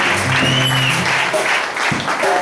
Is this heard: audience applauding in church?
yes